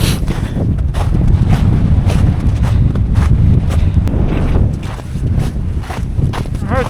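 Strong wind roars across an icy, snow-covered mountain ridge in zero visibility beside a cliff, a loud continuous buffeting blast battering the microphone for the whole stretch, with brief rustling gusts.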